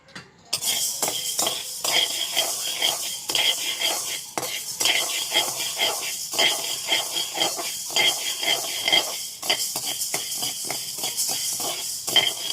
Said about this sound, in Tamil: நான் இப்போ பயிர் போட்டு பயிர் வறுக்க போகிறேன்